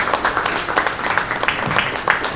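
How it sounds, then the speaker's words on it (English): A crowd claps for itself at the James Meredith Walk Against Fear anniversary event, a lively round of applause with sharp individual claps standing out against the dense patter, fairly loud throughout with faint voices mixed in. "And give yourselves a round of applause"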